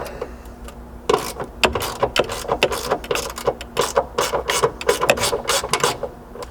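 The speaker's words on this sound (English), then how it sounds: "So to get that ground bolt removed, you're just going to need an 8mm socket" Ratchet wrench fitted with an 8mm socket working a ground bolt loose on a Ford Bronco, rapid close clicking pawl bursts in quick repeated strokes, loud with no talk.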